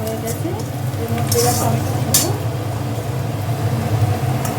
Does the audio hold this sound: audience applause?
no